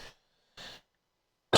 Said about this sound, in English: I'm so sorry about this cough as well